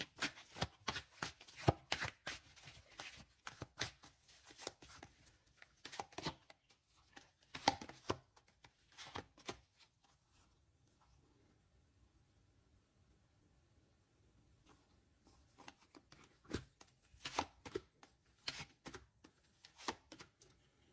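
Tarot-style cards shuffled by hand for a reading, giving quick riffling bursts of crisp paper slaps in irregular clusters, with a quiet pause midway before the shuffling resumes; close and fairly soft, with no talk.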